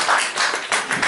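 Brief burst of audience applause at a talk, a few seconds of dense clapping at close range with no voices over it.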